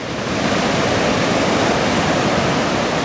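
Ocean waves break steadily at the Anglet surf spot, a loud, continuous wash of surf with no voices.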